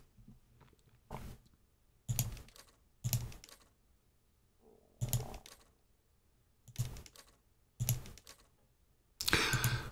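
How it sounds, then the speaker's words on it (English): Clicky computer mouse and keyboard at a desk, sparse bursts of sharp clacks and clicks separated by quiet gaps, close and fairly soft, with no talking. "I apologize if you hear my mouse clicks or my typing"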